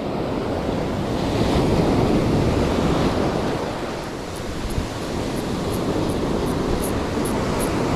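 Ocean waves breaking on a beach at Kema near a power plant, a loud, continuous roar of surf with gusty wind noise and no clear pauses between breakers.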